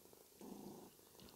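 A cat purring close to the microphone, a low steady rumble that swells after a brief quiet start and carries on softly with no talking over it.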